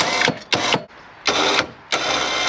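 Brand-new electric winch rated to pull two tonnes, mounted on a Mercedes ML 4x4 and run by push button, whirring in three loud, close bursts with brief pauses between them, no voices.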